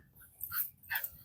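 A German Shepherd lets out two brief, high whimpering yelps while roughhousing with a puppy, each cry short and close with a quiet pause between them.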